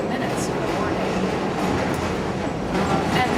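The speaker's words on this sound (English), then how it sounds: "You can see the subway outside the window, and here comes one of the trains." A subway train rolls past outside a school classroom window in Queens, a steady, loud rumbling roar that holds throughout without letting up.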